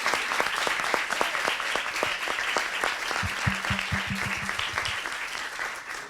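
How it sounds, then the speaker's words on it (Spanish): An audience applauds steadily for students at the close of a university video game and virtual reality course, with dense, even clapping throughout and a brief low tonal hum partway through. "un aplauso por favor a todos los"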